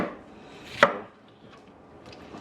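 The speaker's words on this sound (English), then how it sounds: "I'm just going to give that a rough chop." A Damascus steel knife roughly chops green Scotch bonnet peppers on a board, giving one sharp, close cutting thud amid quieter board noise, with no talking.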